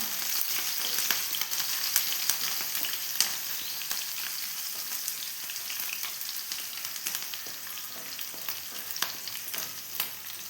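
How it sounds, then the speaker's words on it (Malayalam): Garlic pickle ingredients sauté in hot oil in a pan, giving a steady, close crackling sizzle with small pops throughout, no voices present. "ഈ കുറച്ച് കുറച്ച് വെച്ചിട്ടുണ്ട് ഞാൻ ഇതെല്ലാം ഒന്ന് വഴറ്റി എടുക്കട്ടെ"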